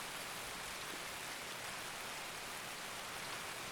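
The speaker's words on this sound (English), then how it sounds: "at least it's a nice light rain" Light rain falls steadily in Escape from Tarkov, a soft, even hiss of drops with no breaks and no voices over it.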